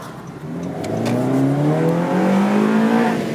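A Honda Jazz/Fit fitted with a custom intake revs hard and throaty, its engine note climbing steadily in pitch and staying loud and close throughout, with no talking over it.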